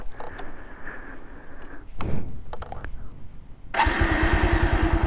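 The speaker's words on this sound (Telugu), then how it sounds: "బైక్ స్టార్ట్ చేస్తా." An old, restored Bajaj Pulsar 180 motorcycle cranks with a few starter clicks and whirs, then catches and settles into a loud, steady, close-up idle thump.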